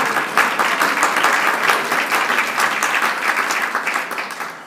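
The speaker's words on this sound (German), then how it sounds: "Ich habe gedacht, wo der Applaus herkommt." A crowd claps together in sustained, dense applause, a bright even patter of many hands, fairly close and loud, holding steady before tapering off slightly at the end.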